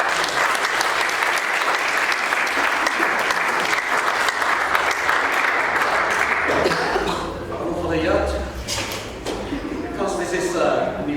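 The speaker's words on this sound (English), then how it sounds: "Can we please get a round of applause for him?" A youth gathering's audience applauds a guest speaker from Niue with loud, dense clapping that carries for several seconds, then thins into scattered claps under murmuring voices and movement.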